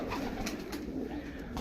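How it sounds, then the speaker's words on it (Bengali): A black male pigeon coos softly and steadily at close range, a low, continuous murmur lasting under two seconds with no voices. "আমার কাছে একটা কবুতর দেখতেছেন, এটা কালো একটা মেল।"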